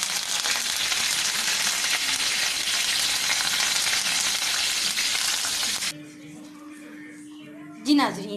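Curry leaves and cumin sizzle in hot oil for kadhi, a loud steady frying hiss that cuts off abruptly near the end, followed by quiet stirring and a brief clatter.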